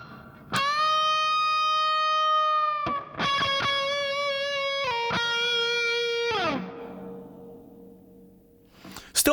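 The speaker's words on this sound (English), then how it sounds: "That's a pretty big reverb, and I can turn that up to absolute max." An electric guitar plays through a Two Notes Cab M+ with the reverb turned up to maximum. A few long, bright notes and a chord ring out, then a long reverb tail slowly fades before a faint click at the end.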